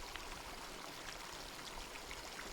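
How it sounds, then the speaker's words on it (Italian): Water tumbles along a river stream in a steady, broadband rushing and splashing hiss, faint and continuous with no voices. "il cascare dell'acqua,"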